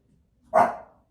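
A single short, sharp dog vocalization, more a bark-like huff than a sustained growl, close and brief amid quiet.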